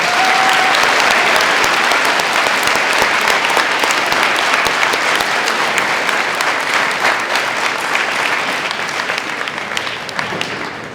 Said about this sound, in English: Could we please give a round of applause and thank her for everything she's done?